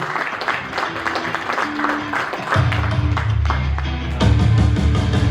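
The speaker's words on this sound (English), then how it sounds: "So can I have both of you here on stage please with a big round of applause" Audience applause at a 40th anniversary celebration as two guests are called onto the stage, a steady wash of clapping with music or low drone entering partway through and growing louder.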